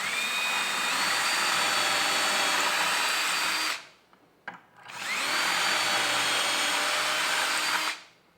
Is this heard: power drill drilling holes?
yes